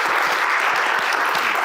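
Audience at a healthcare leadership breakfast event applauding the panel, a dense, sustained clapping from a roomful of people heard close and fairly loud.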